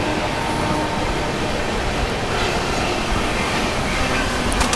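Chennai Express passenger train running along the rails on the Mumbai CSMT to Chennai Central route, with a steady loud roar and rumble of wheels on track throughout, heard from on board and with no talk.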